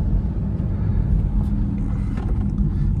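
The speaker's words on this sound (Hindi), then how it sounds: "आप देख ही रहे हो कैसी आवाज़ें आ रही हैं गाड़ी की" A car drives along a small road in Rajasthan on the way from Delhi to Udaipur, giving a steady, loud low rumble of engine and road noise heard from inside, with no talk.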